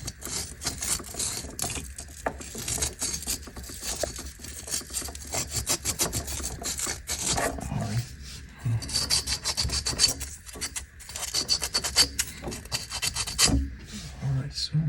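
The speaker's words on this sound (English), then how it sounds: "it's all being sanded down" Close, continuous scratchy rubbing of sandpaper on a refrigeration system part being prepared for Lokpress sealing, busy and uneven in rhythm and steady in loudness.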